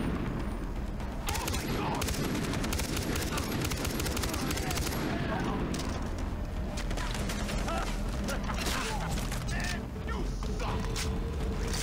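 Machine gun fire in the video game Far Cry 3, dense rapid bursts of shots and clattering effects continuing throughout, loud and busy, with shouted talk over parts of it.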